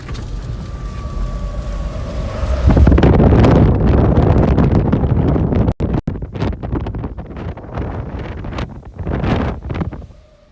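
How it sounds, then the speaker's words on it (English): Strong wind from a severe thunderstorm in Nebraska blasts and roars across the microphone in loud, buffeting gusts that surge, briefly drop out, and return, with no speech. "it's turning into an MCS right now, and it's just blasting wind."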